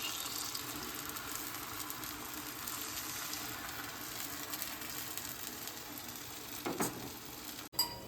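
Thin dosa batter sizzling in a hot pan with oil, a faint, steady hiss throughout and a short clatter near the end, with nobody talking.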